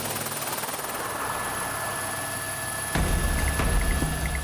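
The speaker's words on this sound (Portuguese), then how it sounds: "O repórter Paulo Zero embarca no helicóptero da CESAI, a Secretaria Especial de Saúde Indígena." A Secretaria Especial de Saúde Indígena helicopter in Yanomami Indigenous Territory drones loudly and steadily with a constant rotor and engine roar, growing heavier and closer near the end, with no voices.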